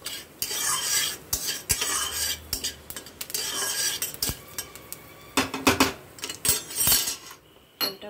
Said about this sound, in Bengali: একটু ফোড়নটা ভাজা ভাজা হোক